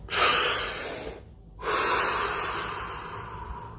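Two deep, close breaths taken during a meditation practice, a long airy inhale broken by a short pause before a second long, breathy exhale.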